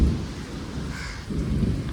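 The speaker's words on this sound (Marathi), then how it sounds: "मी अनुभवलेला पहिला पाऊस आहे आजचा" Steady rain in a village with low rumbling thunder rolling underneath, continuous and fairly close, with no voices.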